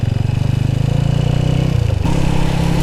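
Honda Wave 100 motorcycle with a dirty carburetor, its engine running loud and close with a steady rough pulse, then the pitch drops and shifts as it struggles to pull.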